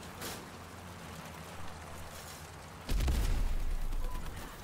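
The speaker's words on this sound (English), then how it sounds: "We've got one guy with a machine gun." Machine gun fire in the vehicle combat game Crossout. A quiet stretch of low rumble breaks into a loud, steady, continuous burst of rapid fire that carries on to the end.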